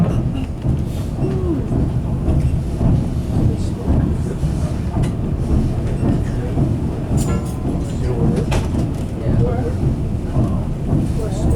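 Steady heavy rumble of a 1950s General Electric diesel train in motion, curving along the line to White Pass, with rattling and clanking of railcars throughout and voices talking faintly underneath.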